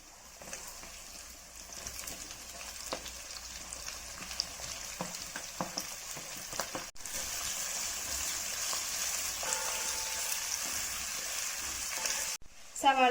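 Onions frying in a pan for a Kerala beef stew, with ginger and garlic already in: a steady, soft sizzle that grows denser partway through, punctuated by light stirring scrapes, with no talking.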